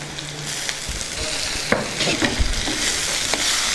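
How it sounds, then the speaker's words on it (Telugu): Boiled bitter gourd pieces are tossed into hot oil with tempering and curry leaves, giving a loud, close sizzle broken by scraping and stirring clatters of a spatula in the pan. "ముందుగా ఉడకబెట్టుకున్న కాకరకాయ ముక్కల్ని ఇందులో వేసేద్దాం"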